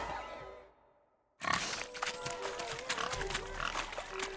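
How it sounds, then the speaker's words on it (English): Pigs grunt and snort in the video game The Witcher 3, during a pig-chasing contest; a burst of close, busy grunting and squeals follows a brief quiet gap, with some background game sound. "Blustering about after pigs, are you?"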